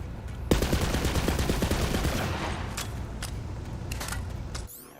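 Rapid automatic gunfire from the Borderlands 3 video game sounds as a dense burst of crackling shots, followed by scattered single shots and game effects before it cuts off abruptly.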